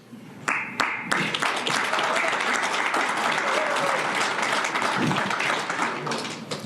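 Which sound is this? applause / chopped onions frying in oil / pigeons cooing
applause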